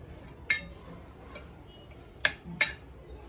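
A spoon clinks a few times against a bowl while chopped onions are tossed with spices and lemon juice, sharp metallic ticks spaced apart over a quiet, soft mixing rustle.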